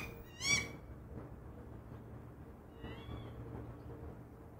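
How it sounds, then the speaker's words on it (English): A female goshawk gives a short, sharp scolding call at her mate, followed by a fainter second call, heard alone against a quiet, distant outdoor background. "She gives her perplexed mate a good scolding."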